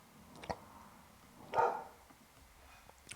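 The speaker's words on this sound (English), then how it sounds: "Oh, there goes my doggy." A pet dog gives a couple of faint, muffled barks from a distance, one short and a louder one a second later, against a quiet indoor background.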